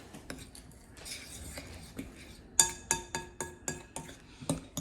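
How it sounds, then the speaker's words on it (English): A spoon scraping and clinking against a bowl while cornstarch is stirred into sand for homemade kinetic sand, with soft gritty stirring, then a run of sharper rhythmic taps near the end, close and fairly quiet. "I'm gonna get this all mixed in and get the cornstarch incorporated with the sand."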